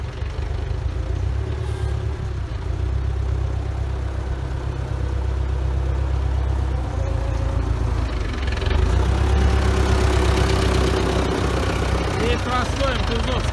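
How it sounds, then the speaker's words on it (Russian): An MTZ tractor engine idles steadily with a low, continuous rumble, while someone talks over it nearby. "Здесь простой МТЗовский движок стоит."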